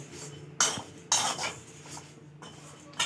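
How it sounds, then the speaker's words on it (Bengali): Flattened rice dry-roasts in a pan without ghee, making several sharp scraping and rattling bursts at uneven intervals, loud and close, with quieter stirring between them. "আমি এবার শুকনো খোলায় ভালো করে ভেজে নেব"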